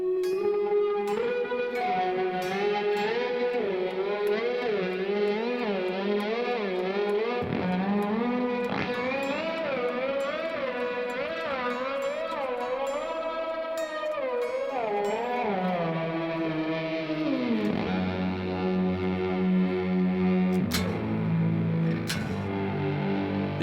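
Electric guitar playing bar chords through a Chase Bliss Lost and Found multi-effects pedal, a continuous processed wash of sustained, wavering chord tones with shifting pitch and occasional bright plucks, steady and alone without talk.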